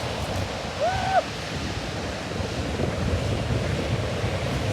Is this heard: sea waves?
yes